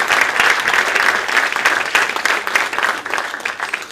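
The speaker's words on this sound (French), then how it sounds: "On peut s'applaudir, hein," Applause from a roundtable audience clapping for themselves, a dense, steady wash of many hands filling the room, loud and continuous before easing slightly toward the end.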